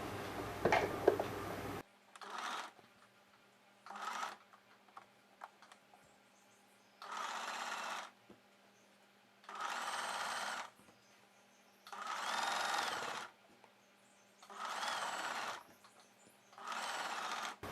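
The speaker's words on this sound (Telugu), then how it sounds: "ఈ కుట్టు పై వైపునే మనం కుట్టు వేసేసుకోవాలి ఈ బ్లౌజ్ పీస్తో కలిపి" A sewing machine stitches a plain blouse piece with invisible thread piping in repeated bursts of steady whirring, each a second or two long with quiet gaps, close and with no talk.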